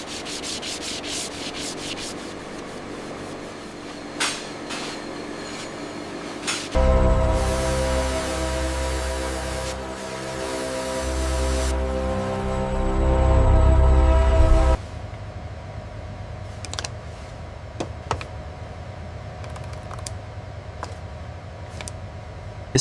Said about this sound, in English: Every Brahman bullhorn panel is placed onto CNC finishing machines, where precision tools refine dimensions